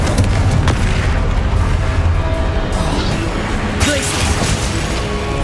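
A Confringo blasting spell goes off in Hogwarts Legacy, a loud, dense fiery roar that fills the scene, with a sustained rumbling blast and crackle that runs throughout at close range.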